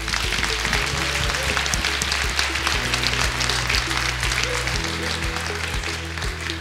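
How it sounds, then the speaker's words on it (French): A graduation ceremony audience for a marketing master's degree claps warmly, and the dense, sustained applause continues steadily throughout. "s'il vous plaît, réservons-lui un tonnerre d'applaudissements"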